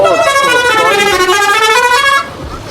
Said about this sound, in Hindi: ये माशाल्लाह इन्होंने हॉर्न बजाया बड़ा बेहतरीन किस्म का।